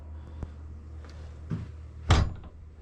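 A shed door opening with a few faint clicks and knocks of the latch, then a louder thunk as the door swings free, close by in a quiet space.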